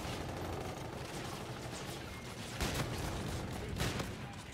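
Pistol shots ring out in a shooter video game, a couple of sharp reports standing out near the end over a dense, noisy battle background with no speech.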